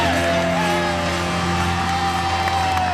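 A wrestling crowd roars in a steady, dense wash of cheering, whooping and shouting, loud and continuous with no pauses, filling a large arena.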